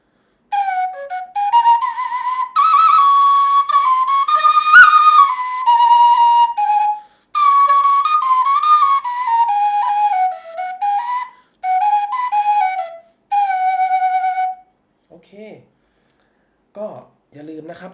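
A Thai khlui bamboo flute plays a bright, wavering tune in several phrases, ending with a brief pause and a few scattered soft notes.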